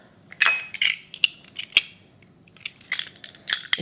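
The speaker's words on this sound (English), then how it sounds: "I'm just gonna put these 2 cloves of garlic through my garlic press." Garlic cloves squeezed through a hand garlic press while making pork wontons give a run of sharp, close clicks and crunchy snaps in uneven bursts.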